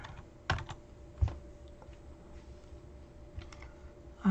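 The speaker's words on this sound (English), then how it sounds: "if we type in something here, let's type in George," Sparse keystrokes on a computer keyboard, a few isolated clicks spread over several seconds against a quiet room hum, close and fairly faint.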